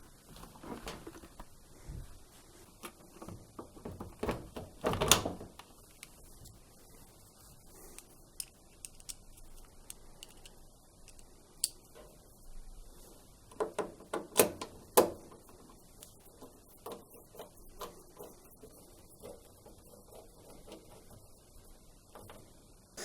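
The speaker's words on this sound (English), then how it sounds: "With all the screws in place, I can now refit the door to the machine." A door being refitted onto a Bosch washing machine, with scattered plastic clicks, taps and small knocks of handling, a couple of louder clunks standing out against a quiet room.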